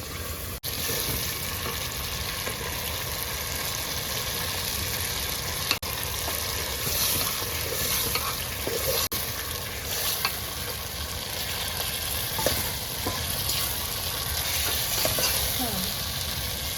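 Food frying in a pan is stirred steadily, a continuous close sizzle with faint scraping as a spoon moves through it, under occasional quiet voices.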